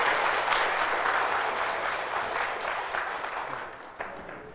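An audience gives a warm round of applause to welcome three speakers at a talk. The broad, steady wash of clapping slowly fades over several seconds.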